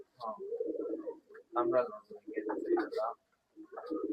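Pigeons coo in a bird market: a Sri Lankan hen and a white-eyed Tamral cock. Soft, throaty coos pulse in short bursts, heard near and fairly quiet, with brief pauses between phrases.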